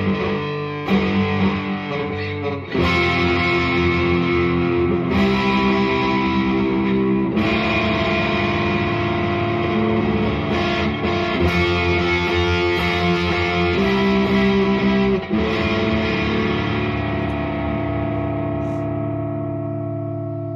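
Harley Benton ST20 CA electric guitar with EMG DG20 pickups played straight through an amp, a steady, loud stretch of distorted, effects-laden chords and riffs with reverb, continuous throughout with no talking.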